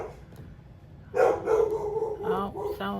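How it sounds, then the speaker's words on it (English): A chihuahua barks in a run of sharp, close yaps after a quiet start, several quick barks in a row. "he's really barking now"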